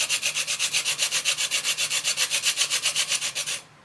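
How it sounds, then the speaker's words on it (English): Whole nutmeg is scraped across a rasp grater in quick, even strokes, roughly twenty rhythmic rasping passes, close and clear, stopping abruptly at the end. "and it just will grate your nutmeg"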